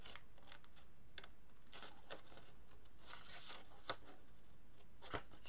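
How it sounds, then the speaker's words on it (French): Scissors cut a paper strip for a small triangular box, giving soft, quiet snips and crisp paper rustles at irregular intervals, close by, with no voices. "On va venir couper"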